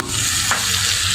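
Meat fries and is stirred in a pan in a home kitchen, with loud, close sizzling and a brief scrape of the spoon midway. Nobody talks.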